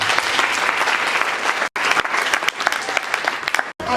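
A church congregation claps and applauds in a steady, dense burst of close hand claps, with a couple of brief breaks.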